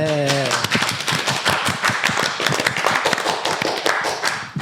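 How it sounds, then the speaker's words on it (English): A small group of people claps together, a loud, brisk burst of hand claps close by, with a voice at the very start before the claps take over and fade out. "Everybody clap."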